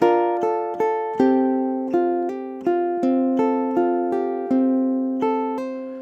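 Plucked ukulele notes ring out in a steady, even rhythm, a dozen or so chords and single notes played alone, close and clear.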